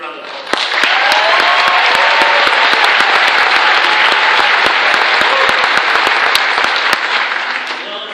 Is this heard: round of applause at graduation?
yes